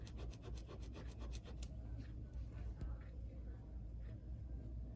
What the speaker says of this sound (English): I gotta put this against something to scrub it with the Scotch-Brite.